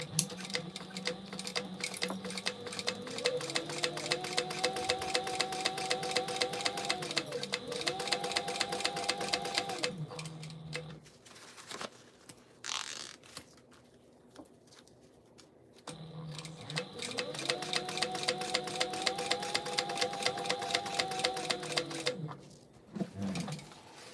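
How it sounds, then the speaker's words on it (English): Sewing machine stitching a zipper onto fabric, a rapid mechanical rattling hum running in two long bursts with a quiet pause between, close and loud. "I'm gonna change my stitch length a little bit and sew this zipper on."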